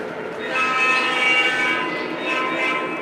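Lionel model diesel trains rumble steadily along the track while an electronic horn sounds two bursts, a longer one early and a shorter one near the end, with no talk.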